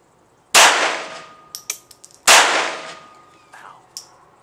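.22 LR Lorcin pistol shots fired during a target match, two sharp loud cracks about two seconds apart, each followed by ringing decay and small metallic clicks and clatter of the action.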